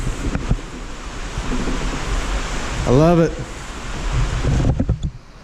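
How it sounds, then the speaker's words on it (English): Heavy rain pours down outdoors late at night as a steady, loud wash of noise, with someone speaking briefly over it. "It's late, it's pouring down rain."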